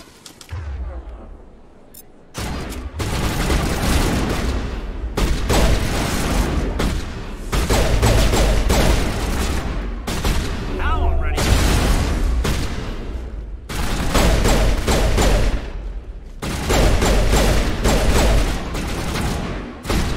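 Heavy, sustained gunfire in the video game Mass Effect Legendary Edition, loud dense volleys and booms in long bursts separated by brief pauses, with some voices mixed in.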